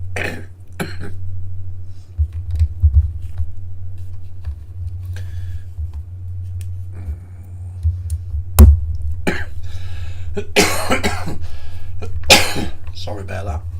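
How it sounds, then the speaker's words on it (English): Several sharp coughs and throat-clearing bursts, close and loud, scattered irregularly over a steady low hum. "Heat makes me cough."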